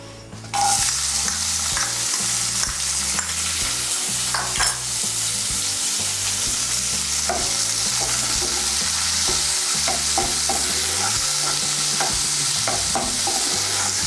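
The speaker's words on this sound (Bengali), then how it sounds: "পেঁয়াজটাকে আমি বাদামি করে ভেজে নেব।" Chopped medium onion frying in oil in a pan until browned, a loud constant sizzle with frequent scraping and clinking stirring strokes throughout, no voices.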